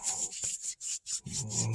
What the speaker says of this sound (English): Rub it all the way down.